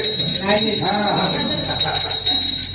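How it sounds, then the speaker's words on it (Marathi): A hand bell rings steadily with a bright, sustained tone at a housewarming ceremony, heard under people talking nearby. "तर घंटा घेऊन जा एकाने वाजवायला."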